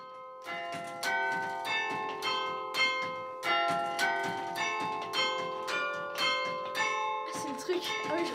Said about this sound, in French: Le carillon, c'est un instrument matériel